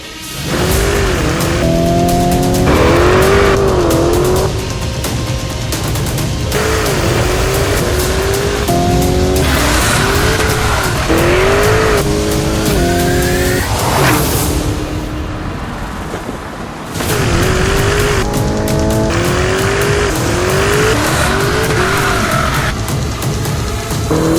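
A 2023 Lamborghini Urus EVO races up the Pikes Peak hill climb, its engine loud and close, revving up and down through repeated gear changes, with tire squeal between bursts and a brief lull midway.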